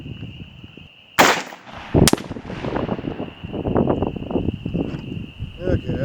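Two sharp, loud rifle shots a little under a second apart, firing home-cast 5.56 bullets, followed by someone talking over quieter background noise.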